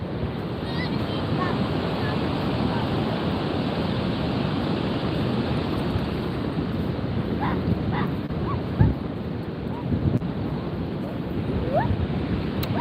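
A dog barks a few times near pounding ocean surf during a tsunami warning, the barks partly buried under continuous crashing waves and buffeting wind on the microphone.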